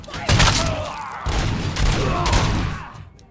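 Gunshots in RoboCop: Rogue City, a loud flurry of overlapping shots and thuds in bursts, with someone speaking over the firing.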